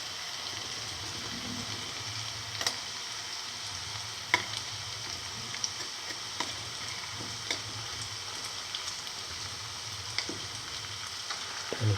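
Cottage cheese and fenugreek leaf fritters fry in hot oil, giving a steady low sizzle with scattered faint pops and crackles that continue for the whole stretch. No voices are heard.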